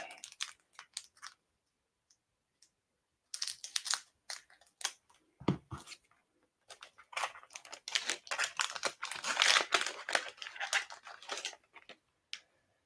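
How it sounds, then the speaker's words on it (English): Scissors snip and crunch through the plastic wrapper of an Upper Deck Marvel Ages trading card pack, close and crisp in irregular bursts with quiet pauses between. "so I'm going to have to use scissors."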